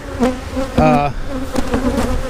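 Honeybees at a freshly split beehive, a steady close buzzing with a louder bee passing briefly near the start.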